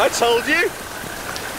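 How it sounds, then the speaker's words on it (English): Rain falling from a cloud made by a jet engine test, a soft steady patter of drops under excited shouting voices at the start. "It's raining!"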